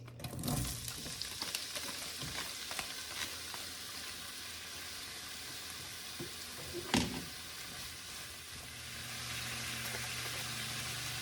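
Bitter gourd, onion, green chili and garlic sizzle in a hot pan, a steady broadband frying hiss with a few clatters as the vegetables go in, continuing without speech.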